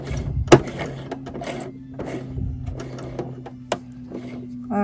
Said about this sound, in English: you can hand wheel this one